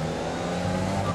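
A Formula 1 race car engine in the F1 2020 video game at Zandvoort: a loud, continuous high-revving buzz with a steady tonal whine, close and unbroken for the whole short stretch.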